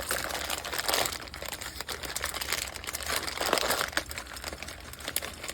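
A bag of milk chocolate chips being cut open, heard as continuous loud plastic crinkling and rustling close by, steady for several seconds with brief crackling peaks and no talking.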